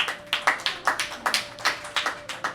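Live audience at a Hindi poetry show claps in a steady run of sharp, close hand claps, about ten bursts in quick succession with no talk over them.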